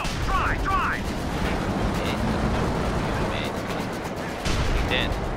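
Company of Heroes 2 battle with heavy booming gunfire and artillery-like blasts amid dense rumbling combat noise, with a few whistling sounds overhead; a German anti-tank Pak gun fires among the din.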